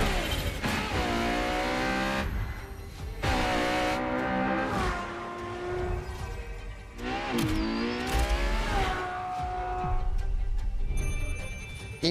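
LaFerrari hybrid supercar in The Crew Motorfest racing game driving hard, its engine rising and falling through gear changes with tire squeals, laid under continuous music and game effects.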